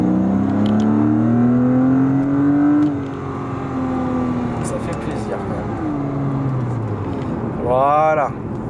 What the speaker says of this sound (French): on va pouvoir donner un petit coup de gaz léger